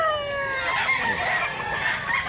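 Gray gamecock roosters for sale at a market in Mantalungon, Cebu, crowing and clucking together in a dense, continuous chorus of overlapping calls, with some crows rising clearly above the flock.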